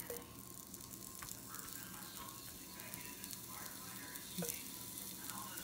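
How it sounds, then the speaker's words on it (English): Onions sizzling and frying on a hot grill, a steady, dense crackling hiss held at an even level throughout with no talking. "Let's grill some onions right quick."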